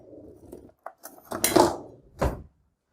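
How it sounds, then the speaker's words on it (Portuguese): A spoon being picked up and clinking against a bowl while making a cake in a jar, giving a few sharp clinks and knocks close by, separated by short pauses. "Vou pegar outra colher"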